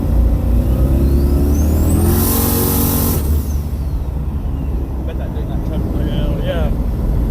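An LS 5.3 V8-swapped Firebird accelerates at speed, its engine roaring with a rising turbo whine that climbs and cuts off, followed by road noise and a brief high whistle, with a voice talking over it.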